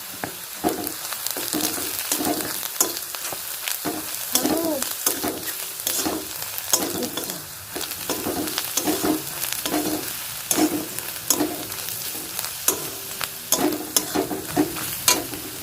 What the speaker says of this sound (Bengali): এই যে দেখুন হলুদ লঙ্কা গুঁড়ো দিয়ে ভেজে নিয়েছি